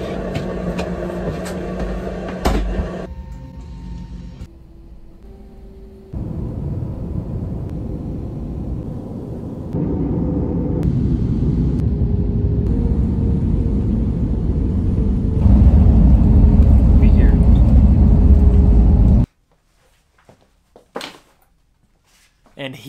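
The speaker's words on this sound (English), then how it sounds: "I'm in the plane, 3-hour flight from Istanbul to Tehran." Airliner cabin noise on a three-hour flight from Istanbul to Tehran: loud steady engine rumble and broadband roar that swells in stages, then cuts off near the end to a few quiet knocks.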